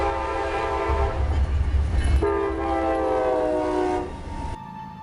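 A passing train sounds a loud, sustained multi-tone horn over the heavy rumble of the cars rolling by close at hand, then the horn cuts off as the noise fades.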